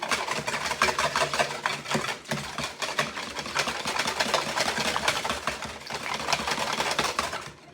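Electric mixer whirring through eggs and three-quarters of a cup of milk in a bowl, a steady buzzing motor drone with rapid rattling beaters, briefly dipping before running on loud and unbroken.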